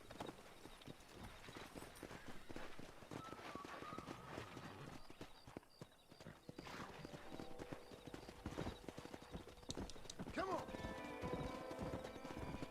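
Horse hooves clip-clopping in the video game Red Dead Redemption, a steady trotting rhythm with a horse whinny and game sounds, while someone talks over it.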